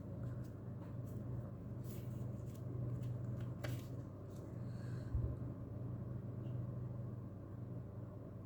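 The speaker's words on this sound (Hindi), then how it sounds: "Final shuffle." Tarot cards get a final shuffle, heard as faint, scattered papery riffles and taps over a low background rumble.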